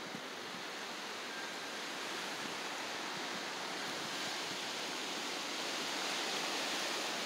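A strong gusty wind blows down from a mountain slope, a dense, steady rushing roar that swells slightly over several seconds, loud and close with no voices.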